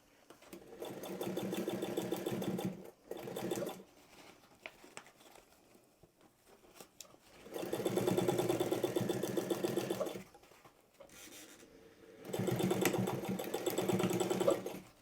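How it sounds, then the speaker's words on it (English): A domestic sewing machine without a walking foot stitches sailboat winch cover fabric in three long, steady rattling runs, separated by quieter handling of the fabric, close up. "just let the machine take it through, it's fine"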